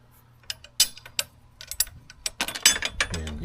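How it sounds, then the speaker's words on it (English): A bolt is fitted through a spacer and pannier mount on a 2024 Triumph Speed Twin motorcycle, giving a series of close, sharp metallic clicks and taps that grow busier toward the end, with no talking. "You want to put your bolt through."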